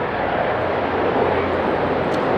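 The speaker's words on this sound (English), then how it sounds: "I'm letting a helicopter go by." A Coast Guard helicopter passes overhead with a loud, steady broadband roar and low engine drone that fills the whole stretch, heard from outdoors near a workbench.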